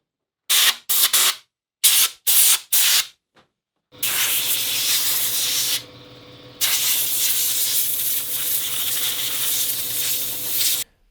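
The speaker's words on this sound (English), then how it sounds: "I'm kind of taking my time here with the air compressor, blowing out the recoil cover here" An air compressor nozzle blasts out a chainsaw's recoil cover, first in several short, sharp bursts, then in a long, loud, sustained hiss with one brief drop in force midway.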